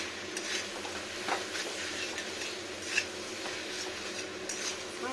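A spoon stirring fish head and cabbage curry in a pan, with repeated soft scrapes and clinks over a low steady sizzle, close and fairly quiet, no voices.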